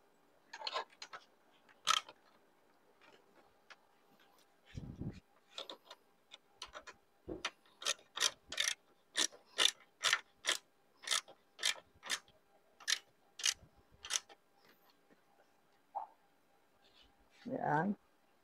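Ratchet tightening a hand guard on a Honda ADV 160 motorcycle: a long run of sharp, evenly spaced clicks with a few heavier knocks, close and fairly quiet.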